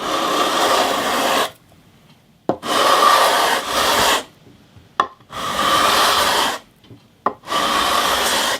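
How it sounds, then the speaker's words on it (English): A 320-grit leveling beam is rubbed back and forth over the frets of a vintage steel-string guitar, making three long, close, dry scraping passes separated by brief pauses, with a small knock at the start of each stroke. "So now I've got this 320 grit leveling beam. I'm just going to run over it just to level the frets."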